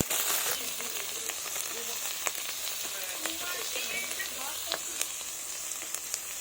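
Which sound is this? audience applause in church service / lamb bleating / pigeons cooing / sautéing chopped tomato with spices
sautéing chopped tomato with spices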